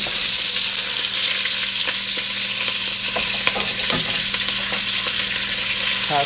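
Green peppers, onions and carrots sizzle steadily in a hot pan, a loud continuous frying hiss with occasional stirring clicks and scrapes throughout, no talking.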